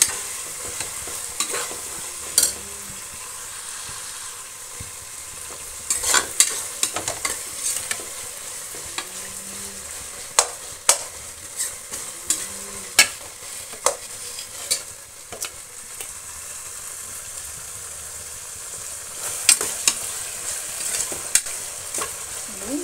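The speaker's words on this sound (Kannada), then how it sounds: "ಇವೆಲ್ಲ ಎಣ್ಣೆಲಿ ಸ್ವಲ್ಪ ಫ್ರೈ ಆಗಲಿ." Vegetables such as tomato and onion frying in oil for palav, a steady close sizzle with scattered sharp clicks and scrapes of stirring throughout, no talking.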